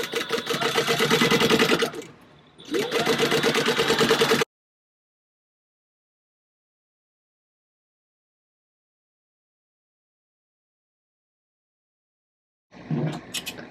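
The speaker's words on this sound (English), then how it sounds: "at 3/8 inch seam allowance we're going to sew these on" A sewing machine stitches fabric pieces together at a 3/8 inch seam allowance with stitch length 3, giving a steady close whir for about four seconds with one short pause, then silence.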